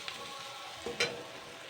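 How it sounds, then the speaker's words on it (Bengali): Ground spices and ginger-garlic paste stirred and frying in a pan for a leafy vegetarian dish, a soft steady sizzle with a couple of brief scraping stirs near the middle, close and alone. "তো হালকা করে একটু নাড়াচাড়া করে নেবো এবারে, জাস্ট 1 মিনিট মতো।"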